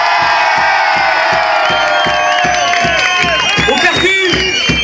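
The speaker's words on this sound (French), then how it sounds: "vous pouvez l'applaudir aussi" A concert crowd at a summer festival in Leucate cheers, whoops and claps loudly for a guitarist, steady and dense throughout, with music tones ringing over the noise and a few shouted voices in the mix.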